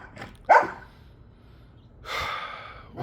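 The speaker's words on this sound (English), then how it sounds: "I'm getting distracted by my dog here." A dog barks in a home during talk about gym training, giving two short muffled barks about a second and a half apart, with a breathy gasp-like sound, fairly close but not loud.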